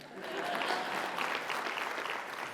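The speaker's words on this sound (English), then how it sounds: "A round of applause, sure." An audience at a workplace leadership meeting claps in a steady burst of applause lasting a couple of seconds, dense and even throughout.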